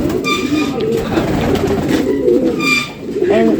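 Big pigeon chicks give close, low, rolling coos, with a few higher chirping notes and a brief dip in the sound near the end.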